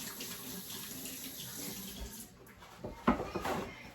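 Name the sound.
washing egg yolk off hands under a running sink tap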